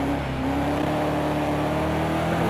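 A BMW M6 GT3 race car in Project Cars 2 at Brands Hatch holds a steady, loud engine drone with layered harmonic tones, close and continuous with no talking.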